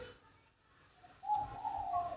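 A young spotted dove gives soft, faint cooing in the second half, after a quiet stretch with low background noise.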